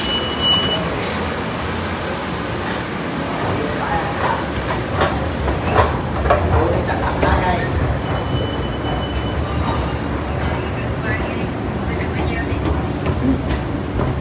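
A Vancouver SkyTrain runs at the King George station platform, making a sustained rumbling rail roar with wheel squeals and high screeches over about fourteen seconds of steady, fairly loud noise.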